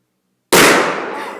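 A single sudden loud blast from a firework-like explosive goes off after silence, with a sharp burst that decays into a long, fading rumble and crackle.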